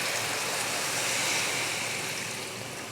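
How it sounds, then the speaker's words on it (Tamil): Water poured steadily into a pan of browned chicken gravy, a continuous broad splashing rush that stays even and fairly loud for the whole stretch with no talk over it. "இதில் தண்ணி சேர்த்துருவோம்."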